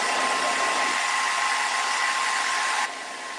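Hair dryer blowing steadily on a handmade craft door hanger, a loud, constant close whoosh that drops to a lower setting just before the end, with no voices.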